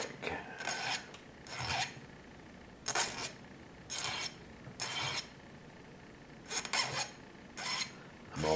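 A file rasps against the end of a guitar fret on a 1920s Regal guitar, in about nine short, steady strokes with brief pauses between them, close and clear with no talk.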